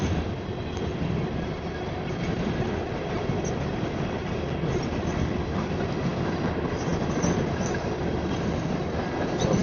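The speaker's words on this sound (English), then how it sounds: "So, freight train." A freight train passes, making a continuous rolling rumble with rhythmic clickety-clack from the wheels and faint squeals over the rails. It is heard at moderate distance, alone and without talk.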